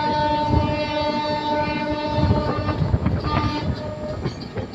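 Shatabdi Express train no. 12025 running between Pune and Secunderabad, a steady loud rumble of wheels and carriage with tonal hum and scattered rattles and clacks throughout, no voices.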